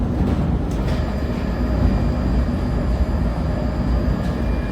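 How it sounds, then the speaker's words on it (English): A London Underground Northern line train runs along in the open, its motor producing a steady, loud rumble of low-frequency drive noise with faint rail hiss on top and no voices. "the motor of the train"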